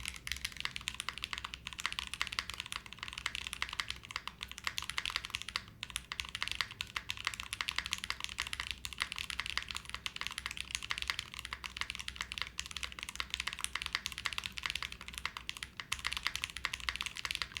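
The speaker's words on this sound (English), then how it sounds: "I'll just do like a full typing test and type something in" Steady, fast typing on an Ace 6.5 prototype mechanical keyboard, dense continuous key clacks close to the mic with no talking.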